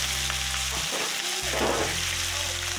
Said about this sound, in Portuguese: Fritando um peixinho aqui